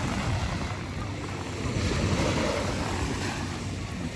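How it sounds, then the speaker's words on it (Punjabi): Water pours at a waterfall in Surrey, British Columbia, making a constant, dense roar that stays loud and even from start to finish with no voices over it. "ਪਾਣੀ ਦੀ ਆਵਾਜ਼ ਕਿੰਨੀ ਘੈਂਟ ਹੈ ਨਾ"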